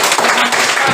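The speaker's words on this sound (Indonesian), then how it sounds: "terima kasih. Tepuk tangan." A class clapping hands together at the close of a lesson, a short loud burst of dense, steady applause with no gaps.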